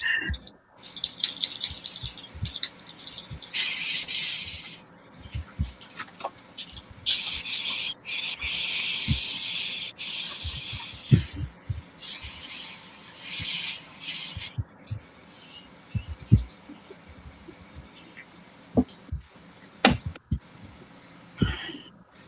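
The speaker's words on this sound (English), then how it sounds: "while I clean this airbrush out" An airbrush sprays paint on a Ripley figure from Aliens in several long hissing bursts, with rattles and small knocks from handling between sprays.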